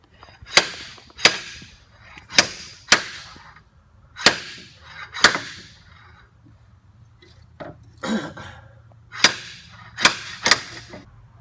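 Sharp metallic impacts strike one after another in uneven bursts, a slide hammer knocking against a bushing stuck in a Ford Escape's transmission, with short pauses between groups of blows.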